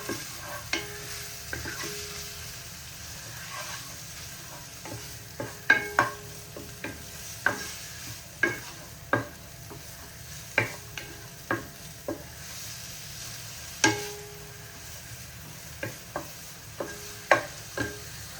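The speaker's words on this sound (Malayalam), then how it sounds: "ഏകദേശം നമ്മുടെ ഇഞ്ചി, പച്ചമുളക്, വേപ്പില ഇതൊക്കെ ഒന്ന് വാടി വന്നിട്ടുണ്ട്" Ginger, green chili and curry leaves sautéing in a pan for chicken sausage curry, with a soft steady sizzle under repeated sharp scraping stirs of a spoon against the pan at an uneven rhythm.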